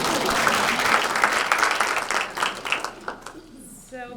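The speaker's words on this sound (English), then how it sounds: "So let's give them a round of applause." An audience at a school board annual meeting claps for students, a full round of applause that thins into scattered claps before a voice starts talking.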